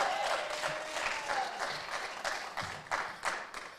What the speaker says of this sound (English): Clap it up for black people traveling out here